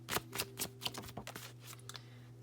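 Tarot cards are shuffled and pulled in a quick series of crisp flutters and riffling snaps, close and quiet, with a steady low hum in the background.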